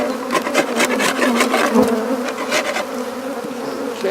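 Honey bees buzz close and steady during an April hive inspection, a dense droning hum with occasional louder passes of individual bees near the listener.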